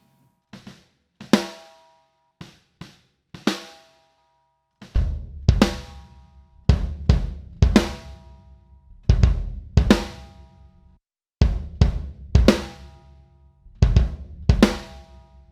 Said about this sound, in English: And the snare bottom mic